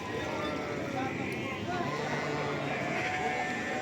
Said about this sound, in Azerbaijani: Hal-hazırda balalı qoyunlardır, gördüğünüz kimi.